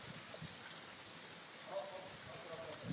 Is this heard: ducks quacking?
no